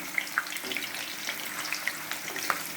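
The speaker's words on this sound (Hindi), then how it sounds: "लगातार हम भूनेंगे इसको। ये हमारे बिल्कुल फ्राई हो जाने चाहिए अंदर तक।" Potatoes for Kashmiri dum aloo fry in a pan with a quiet, steady crackling sizzle, dotted with small pops and light scraping as they are turned.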